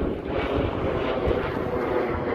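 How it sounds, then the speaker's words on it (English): A plane passes overhead at Alviso near the Guadalupe River, giving a steady broad engine roar that holds at moderate loudness for the whole stretch. "Of course, the airplanes."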